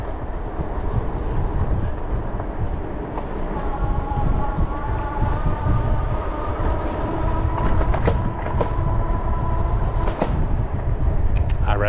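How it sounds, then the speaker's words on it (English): Sprinter trains rumble steadily through a rail yard, a loud continuous drone with tonal hums and occasional clanks, buffeted by wind on the microphone. "is the yard where they keep all the sprinter trains"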